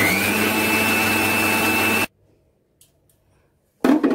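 An electric grinder runs loud and steady for about two seconds while grinding mustard into kasundi paste, then cuts off into near silence before restarting briefly.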